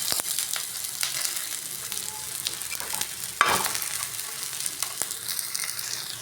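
Veg cutlets sizzle steadily in oil in a frying pan as they are flipped, a continuous near frying hiss broken by a few sharp scrapes and one louder clatter midway, with no talking.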